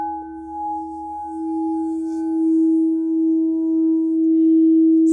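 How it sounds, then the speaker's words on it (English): A crystal singing bowl tuned to E rings with a sustained, pure steady tone and a faint overtone, swelling gradually louder, close and alone with no voices. "For example, crystal singing bowl. This is an E,"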